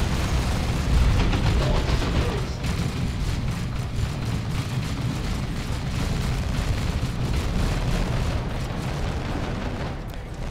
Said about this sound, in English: Here is that autocannon opening fire